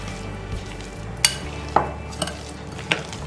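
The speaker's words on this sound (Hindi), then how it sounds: "तो एक बार इन सबको मिक्स कर लेंगे हम अच्छे से दाल के अंदर।" Cooked moong dal stirred together with green coriander in a pan, a steady low sizzle under a few sharp spoon clinks against the metal, close and isolated.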